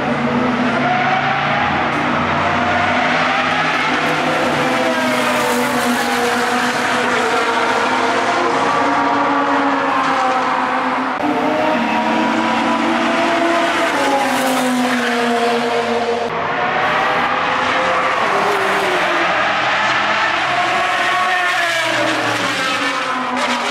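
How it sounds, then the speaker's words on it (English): Loud, high-revving hypercar engines roar past one after another on the Circuit of the Americas track, their pitch climbing and dropping through gear changes with no pause between them. "That's one of the loudest cars in the world, and we're about to watch it rip by."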